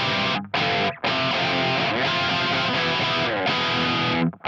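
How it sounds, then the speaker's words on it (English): Electric guitar through a Mesa Dual Rectifier amp with a Tube Screamer in front set to no drive, recorded without a speaker impulse response, gives a loud, sustained, dense distorted tone with brief gaps between chords, no talking. "with a tube screamer in front of it with no drive on it, so it sounds a bit like this"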